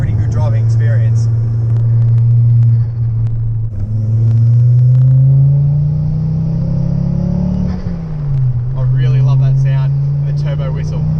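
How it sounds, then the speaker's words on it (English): A 2008 Ford Focus XR5 Turbo engine drones loudly and steadily from inside the car, its pitch rising and falling with throttle, while a faint high turbo whistle floats above the rumble. "Turbo whistle."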